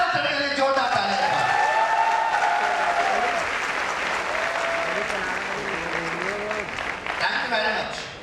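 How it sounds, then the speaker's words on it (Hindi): Sustained applause from an audience at a network marketing event in Lucknow, a dense, steady wash of clapping lasting several seconds with a brief voice rising over it near the end. "मैं चाहूंगा दमदार तालियां हम सभी के लीजेंड, हम सभी के ग्रेट महागुरु जी श्रीमान महिपाल सर के लिए, जोरदार तालियां।"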